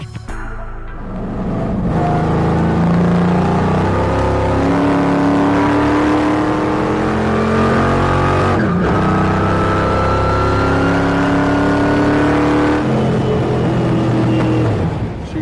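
A 1973 Plymouth Fury V8 race car with a new ignition system roars steadily at high revs, a loud sustained engine drone with shifting pitch and brief dips as it pulls through gears.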